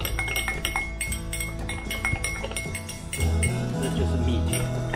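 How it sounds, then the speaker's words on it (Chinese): A spoon clinks repeatedly against the inside of a cup while stirring coffee in a home kitchen, a steady run of close, bright metallic taps over soft background music. "要搅拌给它均匀"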